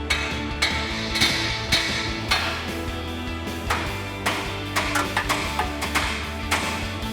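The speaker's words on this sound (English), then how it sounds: "Now grab your hammer and break those ball joints free." A hammer strikes a Jeep Wrangler JK front steering assembly to break the ball joints free, giving a series of sharp, fairly close metallic blows at an uneven rhythm, about a dozen in seven seconds, heard alone.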